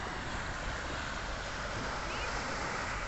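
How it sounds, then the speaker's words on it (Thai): Calm sea at a Thai coast, heard as steady broadband wash of gentle waves with some wind noise, continuous and even throughout, no talk. "นี่ครับบรรยากาศทะเล"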